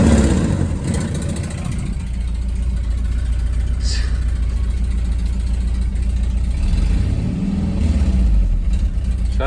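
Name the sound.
Volkswagen Vanagon engine revving with exhaust leak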